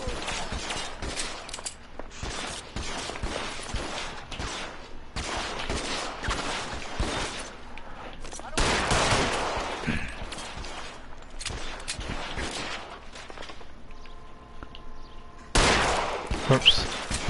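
Gunfire in LA Noire pops in dense bursts and scattered single shots throughout, loud and near, with a heavier blast midway and music-like tones underneath.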